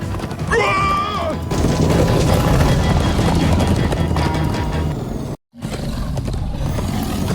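Galloping hooves and rumbling game effects from Minecraft: Story Mode fill the clip, with a horse whinny early on and a brief dropout near the end.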